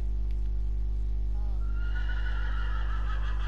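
A foal in a video game whinnies in a rising, drawn-out neigh over a steady low electronic hum, close and clear, with no talking.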